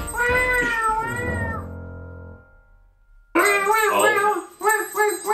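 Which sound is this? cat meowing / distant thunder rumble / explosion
cat meowing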